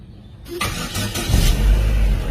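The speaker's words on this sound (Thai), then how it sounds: "เดี๋ยวสตาร์ทให้ดูนะครับ" A 2011 Chevrolet Aveo automatic's engine cranks and catches, then settles into a steady, quiet low idle rumble, close by with no talking.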